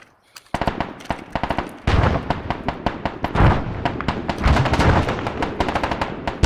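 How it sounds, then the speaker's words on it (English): Mortar rounds strike in an Arma military game session, producing a dense, loud barrage of overlapping blasts and rapid cracking gunfire that rumbles continuously for several seconds. "I'm calling down some mortars"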